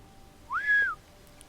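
A single sharp rising-and-falling human whistle, about half a second long, clear and close, used to call dogs back from a distance on a walk; no voices.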